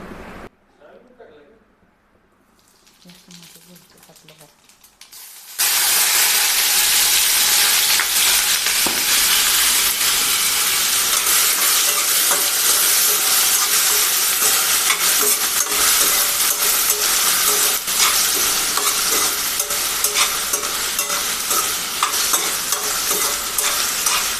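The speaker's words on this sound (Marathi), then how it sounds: "फोडणीत थोडी जिरे घालणार आणि बटाटा पूर्ण भाजून घेणार गुलाबी रंगावर" Potato cubes fry with cumin in a hot tempering inside a tri-ply pan, a loud, steady sizzle that bursts in after a few quiet seconds and holds strong, with stirring scrapes throughout.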